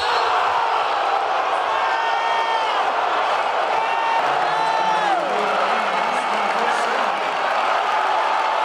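A basketball arena crowd roars and whoops continuously, loud and sustained, with shrill cheers and whistles rising above the dense noise and a faint bouncing underneath.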